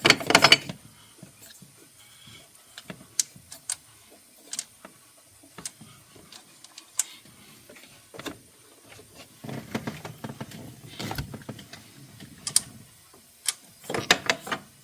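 Hand ratchet clicking as strut bar bolts are tightened in the engine bay of a 2016 BMW X5, sharp close clicks in short irregular bursts separated by pauses, with clatter of tool handling and no talking.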